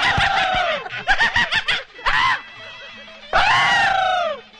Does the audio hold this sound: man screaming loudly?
yes